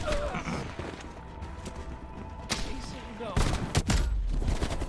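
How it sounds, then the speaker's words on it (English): Video game gunfire during a chaotic firefight, with bursts of shots and impacts over loud background noise, strongest near the end, while players talk excitedly. "Please, they're shooting at us"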